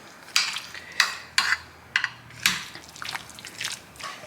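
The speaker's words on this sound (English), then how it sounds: "I want to stir it to make sure everything is coated" A spoon or spatula stirring a keto casserole mixture in a dish to coat it with seasoning, giving a series of sharp scraping clinks and wet, squelching scrapes at an irregular rhythm, close and fairly quiet.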